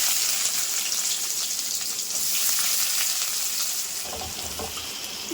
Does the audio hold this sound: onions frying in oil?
yes